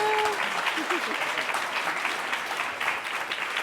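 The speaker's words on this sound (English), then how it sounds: "Just give them a round of applause." Audience applause at a panel discussion on DEI, leadership and PR, a sustained ripple of clapping, with a brief tone and faint voices near the start.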